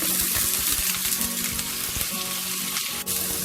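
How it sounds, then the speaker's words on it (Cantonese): Tofu pan-frying in a hot wok, seasoned with soy sauce and oyster sauce for stewed grass carp with tofu: a close, steady sizzle and crackle of oil with faint scraping, no voices. "煎一煎呢個豆腐。"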